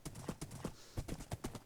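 Minecraft horse hooves clip-clop in quick, evenly spaced steps, a crisp rhythmic trot that sounds close and fairly quiet.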